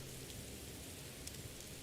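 Steady rain hisses faintly in the video game Morrowind, an even wash of patter with no voices over it.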